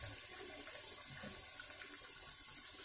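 Bread pakoda pieces fry in oil over a low gas flame, a steady close sizzle and hiss with faint crackles, with no talk.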